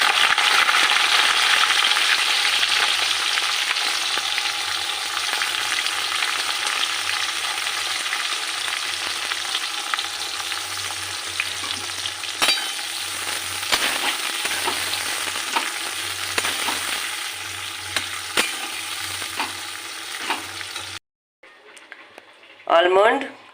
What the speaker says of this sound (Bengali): তেল গরম হয়ে গেছে, এবার পেঁয়াজগুলো আমি বেরেস্তা করে রেখে দেবো।